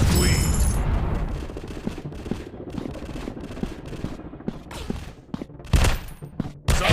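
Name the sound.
gunfire and grenade explosion in FPS shooting video game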